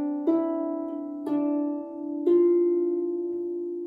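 A harp plays a short practice phrase of three plucked notes, each ringing on with a bright, sustained tone; soft and close, with no voices.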